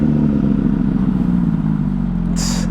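A Suzuki SV1000 motorcycle with the resonator box removed and catalytic converters still in the headers, its exhaust holding a steady, loud low rumble close by, with a brief hiss near the end.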